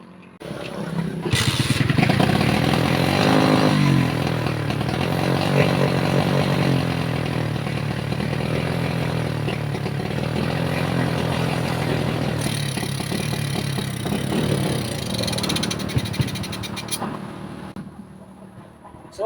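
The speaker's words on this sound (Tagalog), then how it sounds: "try natin kickstart ulit" A kickstarted motorcycle engine with a rough, knocking run that tends to stall starts and keeps running with an uneven idle close by, some brief revs, and a faint voice now and then.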